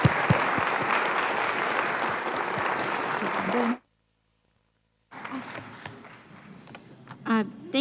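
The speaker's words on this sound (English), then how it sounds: "Please give a big applause to our panelists." An audience claps loudly and densely for the panelists at a U.S.–Japan international exchange symposium. The applause cuts to sudden silence after about four seconds, then quieter room sounds and a voice follow.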